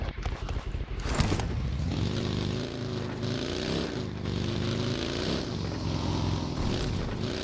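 A vehicle engine in the video game BGMI gives a steady, loud droning motor hum with a slightly wavering pitch, running continuously throughout with no talk over it.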